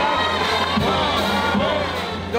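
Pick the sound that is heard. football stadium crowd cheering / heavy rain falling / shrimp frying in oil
football stadium crowd cheering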